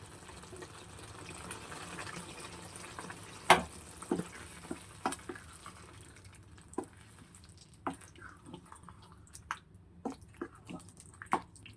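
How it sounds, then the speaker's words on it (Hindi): A spoon stirs a creamy mushroom paneer mixture with large tomato pieces in a pan, giving soft wet squishes and scattered clicks and taps against the pan, quiet and intermittent. "अब इसको हम अच्छे से फिर से मिक्स करेंगे।"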